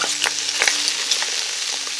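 Broccoli stir-frying in a pan over high heat, a close, continuous loud sizzle broken by quick clicks and scrapes from stirring.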